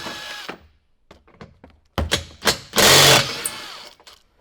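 Power tool working on the rear bumper fasteners of a RAM 1500 pickup: short bursts of whirring with clicks and clanks of handled metal, ending in a longer loud close whirr.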